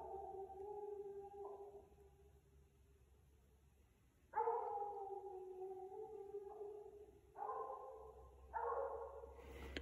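Redbone coonhound baying at a treed animal during a night coon hunt, its drawn-out howls coming in several long bursts with short gaps, fairly loud and close, with no talk over them.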